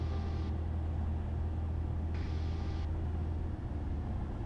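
A Cessna 172 engine drones as a low, steady rumble in the cabin while lining up on final approach at Camden Aerodrome, with two brief higher whines over the constant engine noise.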